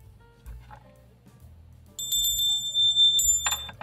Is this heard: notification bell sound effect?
yes